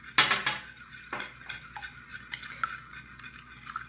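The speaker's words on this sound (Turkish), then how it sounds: "Hepsini güzelce çırpıyorum" Egg, salt and water are beaten for kebab dough, with a few sharp clinks of a utensil against a bowl followed by lighter, irregular scraping and tapping, close and fairly quiet.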